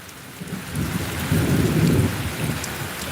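Low thunder rumbles and swells through a steady downpour of monsoon rain in Anand, Gujarat, with lightning strikes nearby; the rumble peaks midway before easing off.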